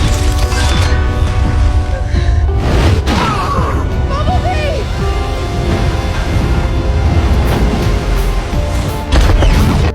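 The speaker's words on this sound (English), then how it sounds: "The devastating impact and explosion wiped Shatter out completely." Loud, dense crashing and booming with cracks and rumble, a chaotic explosive burst layered with dramatic mixed effects and voices.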